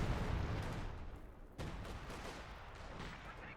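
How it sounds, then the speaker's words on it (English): Sustained automatic gunfire from a triple machine-gun position in a competitive WWII tank strategy game match, a dense continuous rattle of overlapping bursts filling the whole stretch, loud and close with a brief dip midway. "The triple MG wall now from Alon."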